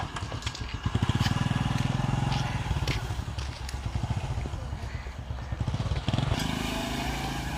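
A motorcycle engine putters unevenly near a village home, its low throbbing pulses rising and falling in bursts, with people talking over it.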